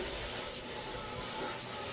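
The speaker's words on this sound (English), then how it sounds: "Just rinsing on my pan because you know what?" Water from a tap runs over a brand-new green diamond pan, a continuous close hissing rush at a low level with no breaks or voices.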